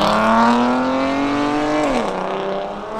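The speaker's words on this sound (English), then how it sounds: "Here comes the Mazda, oi!" A Mazda drives in at a car show, its engine note rising in a smooth strong tone before dropping as it shifts or passes, loud and close with no talking.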